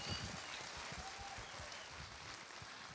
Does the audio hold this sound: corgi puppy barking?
no